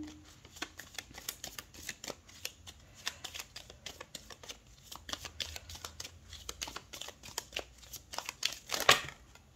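Tarot cards shuffled by hand, a long run of crisp riffling and snapping flicks up close, irregular bursts one after another with a sharper flurry near the end, no voice.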